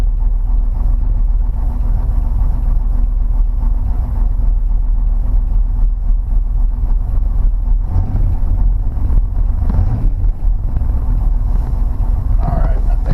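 A Plymouth Fury with an upgraded 383/440 V8 rumbles steadily at idle, a loud deep low-end drone with wind buffeting the microphone and a voice briefly heard over it.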